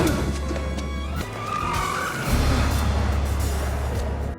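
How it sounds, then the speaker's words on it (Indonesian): Car chase in the 2019 action film Shaft: a steady, loud engine roar with tire squeal and skidding, the engine pitch shifting once partway through before settling back into a continuous drone. "Tetapi sebuah mobil mengejarnya."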